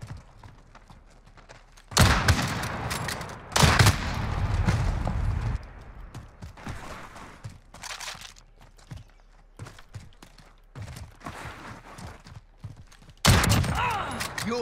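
Sniper gunfire in a 1v1 video game match, a few loud, sharp shots spaced seconds apart, with quieter footsteps and game movement sounds between them.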